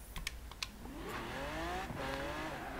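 An Audi R8 with a modified full exhaust starts with a few sharp clicks, then its engine swells into a rising rev that holds strong and close for a couple of seconds.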